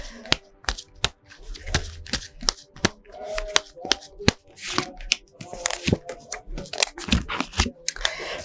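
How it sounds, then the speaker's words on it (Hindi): Tarot cards are shuffled and drawn by hand, producing close, irregular papery flicks, snaps and rustles in quick bursts throughout. "आइए निकालते हैं 3 कार्ड्स"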